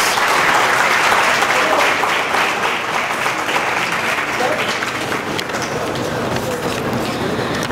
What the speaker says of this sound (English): there must be a huge round of applause.